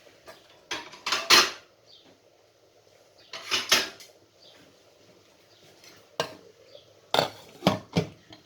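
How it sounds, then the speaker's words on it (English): Metal clanks and scrapes as a lid goes onto a pot of lamb curry in a kitchen, several sharp clattering hits in separate bursts with quiet gaps between. "I'm going to stick the lid now on top of the lamb."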